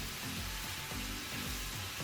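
Oil with ketchup and toasted peppers bubbling and sizzling in a pot, a steady close hiss broken by a rhythmic series of soft scraping stirs.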